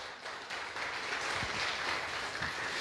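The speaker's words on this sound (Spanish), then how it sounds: "Denle un fuerte aplauso al Señor." A church congregation at a Sunday service applauds together, a dense, steady wash of many hands clapping that swells slightly and holds for a few seconds.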